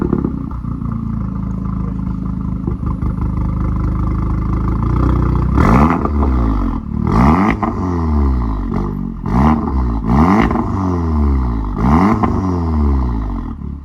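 An Audi car engine idles with a low, steady rumble, then is revved hard several times in quick succession, each rev a loud rising and falling roar close by, with no talking.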